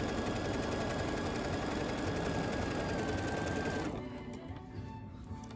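Sewing machine stitching the edge of a quilt with a slightly increased stitch length, a dense steady mechanical whir running loud and close for about four seconds before stopping abruptly into quieter room tone.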